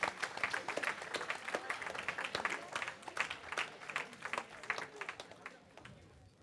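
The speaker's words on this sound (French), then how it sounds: "s'ils peuvent tous nous rejoindre, on peut les applaudir" An audience at an industry conference applauds guests joining the stage, with steady crackling clapping from a moderate crowd in a hall that tapers off toward the end, with faint murmuring underneath.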